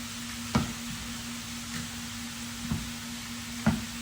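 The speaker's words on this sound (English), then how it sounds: "you want it to sear for about 2 minutes on each side" A beef pot roast searing in a pan, giving a steady close sizzle with a low constant hum and a few sharp knocks spaced through it.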